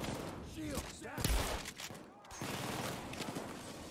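Gunfire in the Payday 2 heist game, a burst of shots with a loud blast near the middle, set among game noise and overlapping talk.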